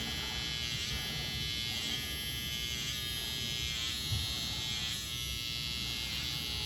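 An electric hair trimmer lining up the edge of a high taper haircut, a steady close-up buzz with a whining high tone that runs unbroken throughout, with no talking.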